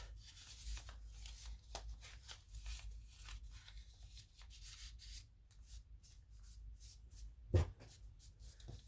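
Origami paper being folded and creased into a dragon from a bird base, a soft continuous rubbing and crinkling with one sharper crisp crackle near the end, close and quiet with no talking.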